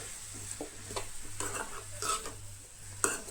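Tomatoes and chillies are stirred with onions in a hot pan, a spoon scraping and tapping the metal in repeated strokes over a low sizzle, close and quiet with no talking.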